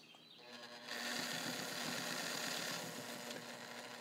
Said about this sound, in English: You can hear it running